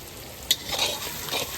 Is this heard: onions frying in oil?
yes